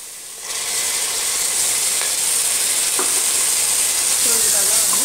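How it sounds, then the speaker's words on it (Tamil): Ground spice paste and onions sizzling in hot oil in a pan while being sautéed for Tamil-style tomato rice, a steady loud frying hiss throughout with a few scrapes of stirring, no talking. "தக்காளிக்கும் முன்னாடி நம்ம இந்த அரைச்சி வச்ச பேஸ்ட்டை வந்து ஆட் பண்ணிடலாம்"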